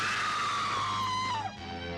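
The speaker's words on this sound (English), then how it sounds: "Teela gets pulled down and lets out the loudest scream in cartoon history." A cartoon heroine in a He-Man episode lets out a long, loud, shrill scream that holds high and bends downward before fading, with faint background noise behind it.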